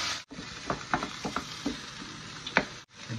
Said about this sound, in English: Magsasaute tayo ng onion garlic.